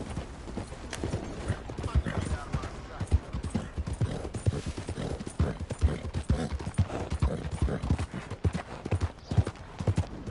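Rapid clip-clop of horse hooves trotting steadily in a video game, close and continuous, with some low background sound mixed in.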